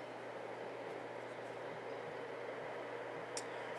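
In the Trainz Simulator 2 video game, a maglev train runs with a steady, even broadband rushing noise and a low hum underneath. There is no clear change in the sound, just one brief faint tick near the end.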